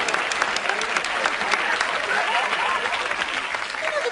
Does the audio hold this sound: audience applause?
yes